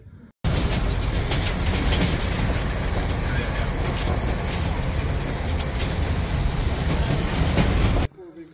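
Ride aboard a shuttle train descending to Lipa Cave in Montenegro, a loud continuous rumble and rattle of wheels with clattering, steady throughout, with voices faintly mixed in.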